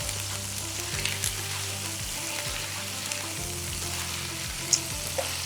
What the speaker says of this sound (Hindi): सिंपली फ्राई था कयूं।